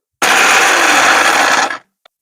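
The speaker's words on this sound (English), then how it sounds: "I'm going to take it out the heat and transfer that into my blender and give it a coarse grind." A kitchen blender coarsely grinds roasted ingredients for carrot rice: one loud, steady whirring roar for about a second and a half that cuts off abruptly, followed by a tiny click.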